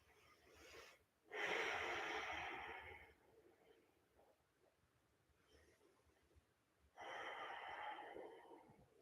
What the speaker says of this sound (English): I'm really sorry if you can hear my sniffles from I really think I have the flu.